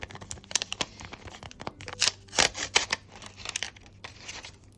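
Paper crinkles and rips in short bursts as a small pink paper surprise packet is torn open up close, with rustling between the tears.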